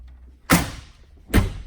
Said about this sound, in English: It's what they call a friction hinge door.